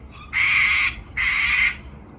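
A cockatoo squawking twice, two harsh, loud, drawn-out screeches close by with a short pause between them, and no voices.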